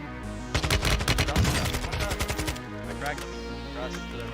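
Gunfire in the video game Warzone 2 rattles out as a quick run of close, sharp automatic shots, then tapers into a few scattered quieter pops.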